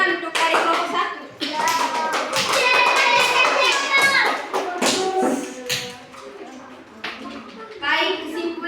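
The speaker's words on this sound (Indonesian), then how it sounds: "Sekarang tepuk tangan untuk dari kelompok 1" Classroom group of children clapping in applause for the first presenting group, a dense, steady patter of many hands sustained for several seconds, with children's voices chattering throughout.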